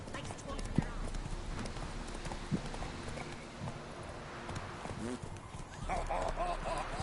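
Horse hooves clip-clop at a run in the video game The Witcher 3, a steady rhythmic patter of galloping footfalls with someone talking over them.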